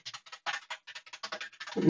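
Quick bursts of typing on a computer keyboard as a chat prompt is entered in a code editor, with clustered keystrokes, brief pauses and a soft thump at the end.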